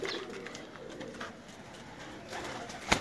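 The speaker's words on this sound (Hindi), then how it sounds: "बहुत आला कबूतर है।" Pigeons coo softly in the background at a pigeon loft in Multan, amid faint rustling and ambient noise, with a sharp click near the end.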